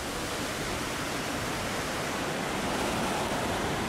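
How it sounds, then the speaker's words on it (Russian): Ocean waves washing onto a sandy beach, a dense, continuous broadband roar of surf heard up close and fairly loud, with no voices over it. "Пожалуйста, послушайте звук волн."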